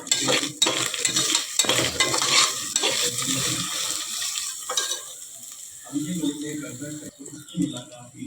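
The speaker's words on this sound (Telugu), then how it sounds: "దాంట్లో ధనియాలు, జీలకర్ర, గరం మసాలా పొడి వేసి ఇది కూడా కొంచెం వేపుకోవాలి." Coriander seeds, cumin and garam masala powder fry in a pan for a rice dish, a soft sizzle mixed with repeated metallic scraping and stirring clatter of a spoon against the pot, uneven in loudness.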